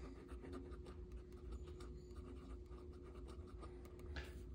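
Fountain pen (Santini Italia Libra) with dark blue-gray ink scratching across notebook paper, a soft, continuous nib scratch with small stroke accents, close and quiet over a low steady hum.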